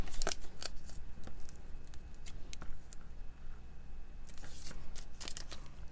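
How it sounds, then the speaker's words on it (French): Scissors snip through a clear plastic transparency sheet at a craft table, a series of crisp, quick cuts in irregular bursts, close and moderately loud with no voices. "je vais couper mon transparent"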